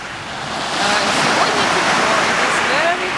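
Sea waves wash onto the shore on a hot day, a broad continuous hiss of surf that swells slightly midway, mixed with wind buffeting the microphone.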